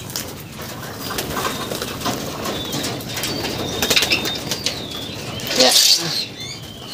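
Pigeons coo and flap their wings inside a pigeon loft, a steady close flutter and rustle with a louder burst of wingbeats near the end, while a voice speaks briefly.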